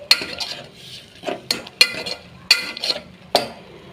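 Ground masala paste stirred in a cooking pan for mutton leg soup: a spoon scrapes and clinks against the metal pan in about half a dozen sharp, irregular strokes, close and clear with no talking.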